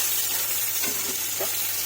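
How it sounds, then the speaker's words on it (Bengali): Taro stolons (kochur loti) fry in a pan, giving a soft, continuous sizzle with a few faint stirring scrapes, quiet and close with no talking. "আমার কচুরলতিটা কিন্তু ভাজা হয়ে গেছে, দেখতেই পাচ্ছেন"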